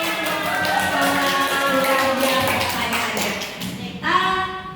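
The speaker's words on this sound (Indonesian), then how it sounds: "Tepuk tangan lagi sekali lagi." Clapping at a school gathering after the principal speaks, a continuous patter of hands with a voice talking over it before the sound fades out near the end.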